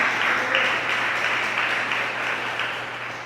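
A church congregation applauds during a worship service, a crowd's steady clapping that stays moderately loud and then eases off slightly over a low sustained hum, with no talking on top.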